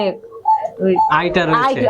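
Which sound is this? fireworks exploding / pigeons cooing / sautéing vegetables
pigeons cooing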